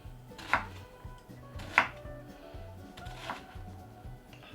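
A knife dicing an onion on a cutting board, a few distinct faint chops spaced about a second apart over a low rhythmic background hum.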